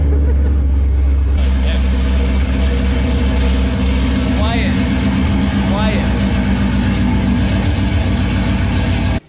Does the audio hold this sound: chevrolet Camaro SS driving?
yes